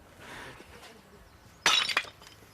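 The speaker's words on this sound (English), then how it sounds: "is now reduced to smashing up the tiles which were destined for his designer bathroom" Granite bathroom tiles smashed with a sharp crack and shattering burst, loud and sudden after a stretch of quiet background, with a second smaller crunch right behind it.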